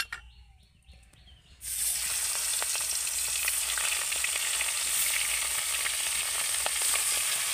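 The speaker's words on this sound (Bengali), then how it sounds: "তেল গরম হয়ে গেছে মাছ ভাজার জন্য। এবার মাছগুলোকে আমি ভেজে নেব।" Small tengra fish dropped into hot oil: after a quieter stretch of clinks and handling, a loud, steady frying sizzle bursts in and continues at full strength with fine crackles. Nobody speaks.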